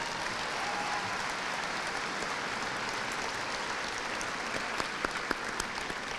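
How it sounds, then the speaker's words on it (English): A large crowd at a high school graduation ceremony applauds continuously for six seconds, a fairly distant, even wash of clapping with a few sharper claps standing out near the end. "Let's give them all a round of applause."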